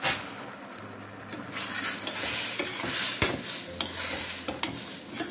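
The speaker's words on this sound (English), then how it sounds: "So this is my lovely apples, and it's in syrup, also some pineapple syrup." Apple pieces cook in butter with pineapple syrup in a pan, giving a steady close sizzle under stirring scrapes and occasional clinks of a utensil against the cookware.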